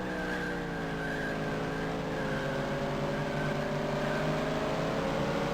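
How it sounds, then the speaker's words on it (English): Simulated race cars in the DOS game NASCAR Racing 2 at Martinsville, a steady layered engine drone with harmonics sliding downward as cars shift down a gear, loud and continuous, no talk. "I can hear some of the cars actually shifting down the 3rd gear."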